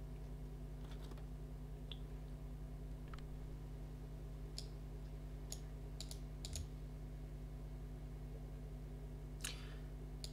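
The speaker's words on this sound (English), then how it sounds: "and I'll type it up" Keys clatter on a keyboard in the video game Kentucky Route Zero, sparse single clicks and short quick bursts spread over a steady low background hum, faint and close.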